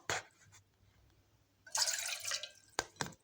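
One and a half cups of water are poured into a cooking pot (degchi), with a short splashing pour in the middle and a few scattered clinks and drips around it.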